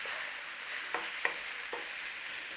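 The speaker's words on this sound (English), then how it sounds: "In there with our carrot, celery. We're just going to soften this up in there." Carrot and celery soften in a frying pan with a steady, even sizzle, broken by a few faint clicks of stirring, close by and with no talking.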